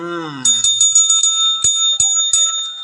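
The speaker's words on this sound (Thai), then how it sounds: "นี่เคาะกระดิ่งเรียกซับเรียกคนหน่อยอ่า" A small metal desk bell is tapped about eight times in an irregular rhythm, each strike ringing bright and close, the first preceded by a brief low tonal hum.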